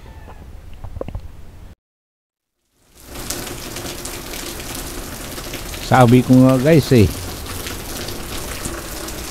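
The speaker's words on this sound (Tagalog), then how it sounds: "bumuhos ang malakas na ulan." Heavy rain pours down in a steady, dense roar after a brief quiet gap, with a short burst of speech at the start and a wavering tonal cry rising above the downpour partway through.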